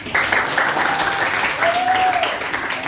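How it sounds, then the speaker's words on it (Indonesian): A classroom of students bursts into dense, continuous applause, a steady wash of clapping that holds at even loudness throughout, with a voice faintly audible underneath. "tepuk tangan"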